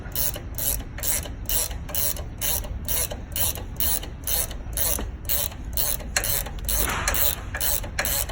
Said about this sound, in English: let's start with this mountain wrench, ratcheting wrench